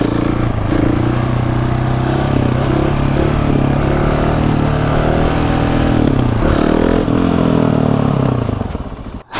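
A Husqvarna 701 supermoto single-cylinder engine roars loud and close during a wheelie, holding a steady drone with a dip and rise in pitch near the middle before cutting off at the end.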